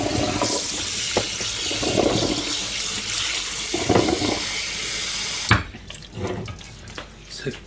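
Tap water runs steadily into a kitchen sink as food is lightly rinsed during Japanese home cooking, then cuts off abruptly, leaving a few quieter clinks and splashes.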